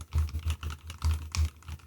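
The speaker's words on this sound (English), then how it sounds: "here's some keyboard typing sounds at the same time so we can see how that" Computer keyboard typing, caught on a budget Fifine AM8 microphone: a quick run of soft, uneven key taps, close and fairly quiet, with no voices.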